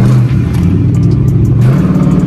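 Catless Chrysler 300 exhaust revving hard close by, a loud raspy engine roar that climbs, dips briefly and surges again over a couple of seconds.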